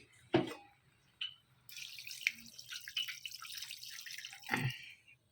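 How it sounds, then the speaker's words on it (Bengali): A little water poured into a cooking dish along with ground pepper, a soft close pour and splash with a few drips before and after; no talking. "আর একটু জল দিয়ে দিই"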